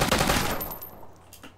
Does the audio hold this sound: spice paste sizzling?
no